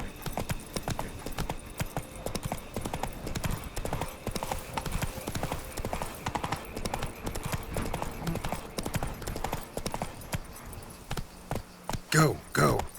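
Hooves of Roach, Geralt's horse in The Witcher 3: Wild Hunt, clip-clop in a steady rapid trot on hard ground, close and continuous, with a brief snort or whinny near the end.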